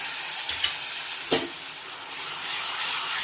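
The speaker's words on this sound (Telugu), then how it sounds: "ఇప్పుడు అల్లం వెల్లుల్లి పేస్ట్ బాగా పచ్చి వాసన పోయేంత వరకు వేయించుకుందాం." Ginger garlic paste fries with lightly browned onions in a pan for a country chicken curry, putting out a constant close hiss with one brief scrape or clink partway through.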